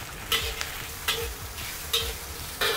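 Shrimp stir-fried in a wok for slippery egg with shrimp: a steady sizzle runs throughout, broken by four evenly spaced scraping strokes of the spatula against the pan.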